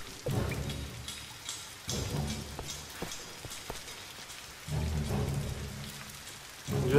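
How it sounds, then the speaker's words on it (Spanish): Heavy rain pours steadily in the 2013 Tomb Raider video game, a dense hiss of falling water with low rumbling swells that rise and fade in waves, heard alone without talk. "Llueve a cántaros."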